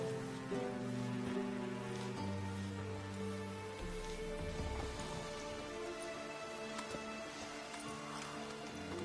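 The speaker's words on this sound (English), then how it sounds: "Rain again." Rain falls steadily in The Witcher 3, a soft constant patter beneath sustained low musical tones, with no speech.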